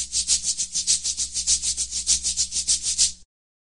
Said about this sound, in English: Maracas sound like this.